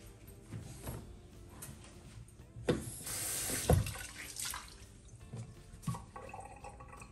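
A basket and dishes are washed with soap in a kitchen sink while tap water runs and splashes, with soft clunks and scrubbing bursts, a few louder knocks, and no talking.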